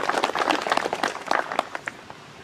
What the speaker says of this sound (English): Let's give the AMVETS a nice round of applause.